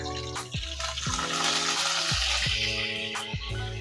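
Curry leaves and coriander hit hot oil in a kadhai and set off a loud, steady sizzle and crackle close by. Sharp, repeated descending chirps and squeaks cut through the sizzle, and nobody speaks.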